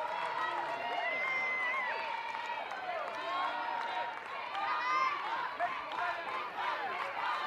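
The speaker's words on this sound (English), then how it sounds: "clapping, really trying to cheer this BYU team on for a finish right now" BYU softball fans clapping and cheering in the stands during a tense at-bat against Oklahoma State, a steady wash of applause and crowd noise with a commentator talking over it.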